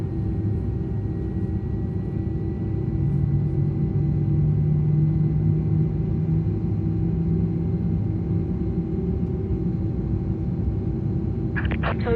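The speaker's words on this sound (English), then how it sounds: "Very quiet engine sounds from inside the airplane, huh?" Airbus A300 jet engine spooling up in Microsoft Flight Simulator, heard from inside the airliner cabin as a steady, muffled low rumble with a faint rising tone, holding fairly constant throughout.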